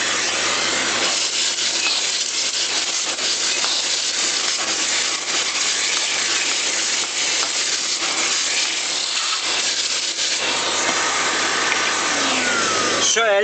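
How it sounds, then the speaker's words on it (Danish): A vacuum cleaner runs steadily close by while a refrigerated display cooler's filter is being cleaned, giving a loud, constant broadband roar with slight fluctuations throughout. "Tænder for støvsugeren."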